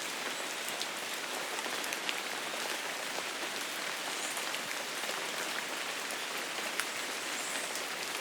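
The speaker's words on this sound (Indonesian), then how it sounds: "Hujan belum benar-benar berhenti." Rain falls on a campsite tent at Tawangmangu in a dense, steady patter of fine drops with occasional sharper taps, even throughout and with no voices.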